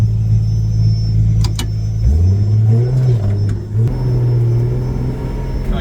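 A Honda Odyssey drift car fitted with a 2JZ engine rumbles close by at a steady idle, then revs up sharply twice, each time settling back to a deep, even drone.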